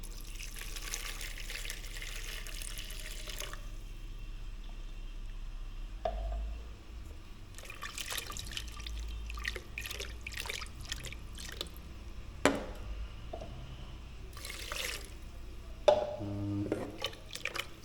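Coconut milk drips and trickles in a Jamaican kitchen, quiet wet splashes and a short pour over soft background noise, with a few sharper drops near the end.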